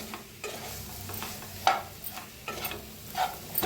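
Fennel seeds, cumin and coriander toasting in a pan, stirred with a utensil: soft sizzle underneath repeated scraping strokes, close and quiet, no voices.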